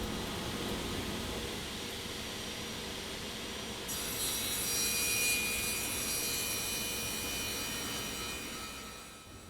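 Table saw ripping cabinet side panels to width along the fence, a steady broadband whine and rasp of the blade in wood that grows brighter and louder midway through the cut, close by with no talking.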